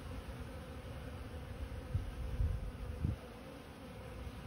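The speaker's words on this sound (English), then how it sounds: "See all the different kinds of bees, the drones, the nurse bees." Honeybees at a hive, drones and nurse bees among them, hum as a low, steady, close buzz with a few louder swells as individual bees pass near.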